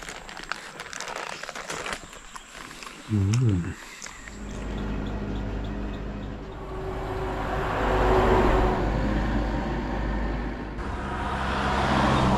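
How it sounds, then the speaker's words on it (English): Evening traffic of cars, trucks and buses on a main road, a broad continuous rumble that swells and builds after some crinkling and handling noise near the start, with a voice heard briefly. "There's so much traffic. It's one of the main roads, so it's gonna be quite loud this evening"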